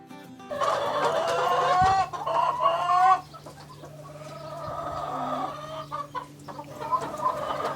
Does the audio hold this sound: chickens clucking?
yes